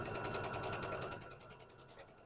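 A sewing machine stitching fabric runs in a steady rapid whir that slows into separate mechanical thumps near the end, close up and alone.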